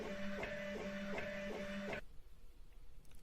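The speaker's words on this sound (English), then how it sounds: "We let the extruder nozzle grind and scratch the surface." A 3D printer's extruder nozzle grinds and scratches across the print surface in a pulsing, rhythmic motorized whine with regular beats, then cuts off abruptly to quiet room tone.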